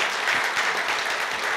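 Audience at a Korea University honorary doctorate ceremony applauds, a short, even burst of dense clapping filling the hall at moderate loudness.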